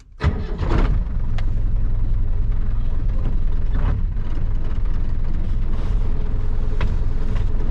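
A Ford Transit 120P van engine catches with a sharp start, then runs steadily at a constant rumble nearby, with a few faint clicks and knocks.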